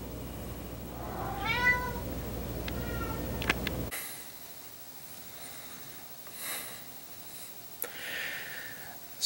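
Several cats meow at feeding time, a few rising and falling calls close by in the first seconds, followed by quieter snorts and sniffing sounds in a calmer room.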